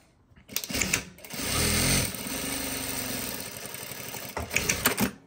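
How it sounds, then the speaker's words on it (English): An industrial sewing machine runs in a quick burst, then a steady mechanical whir, ending with sharp clicks and clunks as it automatically cuts the thread, bar tacks and lifts the presser foot. "it automatically cut the thread, done the bar attack and lifted up the presser foot"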